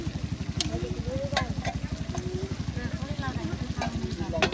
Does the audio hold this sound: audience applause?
no